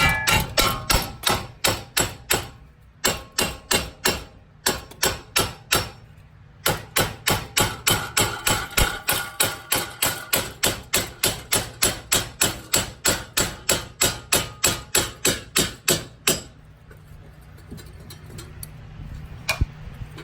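Steady, sharp hammer blows strike metal to knock out a wheel hub bearing on a 2009 Chevrolet Malibu, coming in rapid bursts of evenly spaced taps with short pauses, then stopping near the end.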